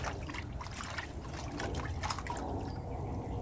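Water trickles and splashes continuously into a home aquarium tank holding Quikrete pool filter sand, close and steady with small gurgling fluctuations.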